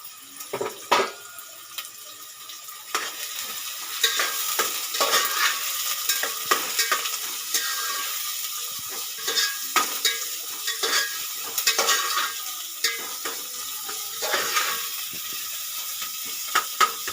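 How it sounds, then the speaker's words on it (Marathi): Fenugreek greens stir-fried in a pan, a steady close sizzle with repeated scraping and stirring strokes throughout, no talking. "लालसर करून झाला की भाजी परतायची त्याच्यात आणि मीठ खोबरं टाकायचं चिमटीवर"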